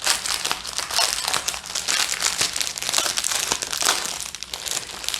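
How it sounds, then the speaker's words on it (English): A sheet of plastic is crinkled and crumpled in the hands, a loud continuous crackling that runs without pause for several seconds, close to the listener with no talking. "I have a piece of plastic."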